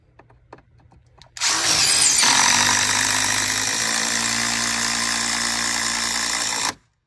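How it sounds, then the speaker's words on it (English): A power drill driving screws for hurricane protection starts after a few faint clicks and whines loudly and steadily for about five seconds, then stops abruptly. "take your drill and drill it back out again"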